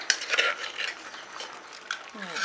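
Pounded sticky rice being stirred into a pot of Thai bamboo shoot curry with hed thob mushrooms, a spoon scraping and clinking against the pot in quick irregular strokes, close and moderately loud with no talking.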